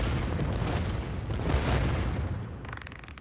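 Explosions set off by cataclysm spells in the VR game In Death: Unchained, heard as a dense, continuous low rumble of overlapping booms that fills the whole stretch and thins out near the end.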